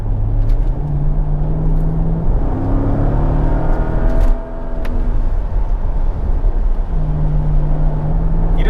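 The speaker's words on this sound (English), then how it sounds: "Stop spinning the wheels!" A Mercedes SL55 AMG runs with its rear wheels spinning, giving a loud, steady engine drone with rising and falling pitch and a brief dip midway, heard up close with no talk.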